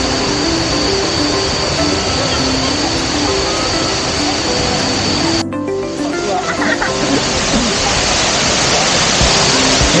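A waterfall on the Mudal River near Yogyakarta rushes in a constant broadband roar, loud and steady, with a brief shift in tone midway.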